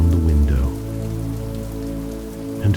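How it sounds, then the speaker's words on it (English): Rain patters steadily against a window, a soft continuous hiss under a low, even hum. "Rain traces long, wandering lines down the window."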